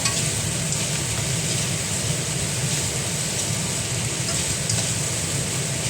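Garlic and ginger sauté in hot oil for biryani, giving a loud, steady sizzle that runs unbroken and close throughout, with faint stirring scrapes and no voices.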